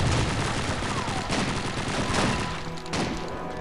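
Sustained battlefield gunfire in Call of Duty 2, overlapping automatic bursts and single rifle cracks filling the whole stretch at a loud, steady level.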